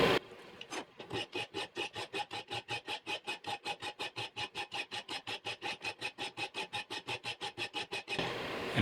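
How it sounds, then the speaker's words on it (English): Metal file working a knife blank by hand, about forty steady, evenly spaced rasping strokes, close and loud, with a short pause near the start and no talk. "for those of you that are new to filing things, you want to do as much cutting on the push as you can"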